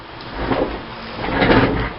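A cheap two-drawer plastic storage bin drawer slides open or shut, giving a soft hollow scraping rub that swells twice over two seconds, close and fairly quiet indoors.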